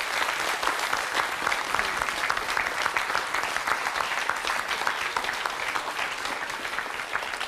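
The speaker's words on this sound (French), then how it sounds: "Eh bien, on peut l'applaudir très fort." A studio audience at a French talent show breaks into steady, dense applause that carries on evenly for several seconds, loud and sustained, with no talking over it.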